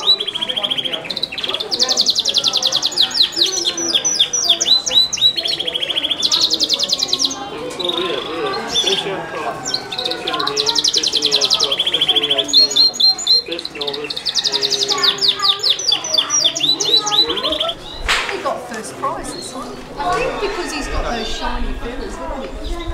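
Pigeons and other show birds in the bird pavilion at the Hobart Show chirp and call almost nonstop, busy and fairly loud, while people talk nearby.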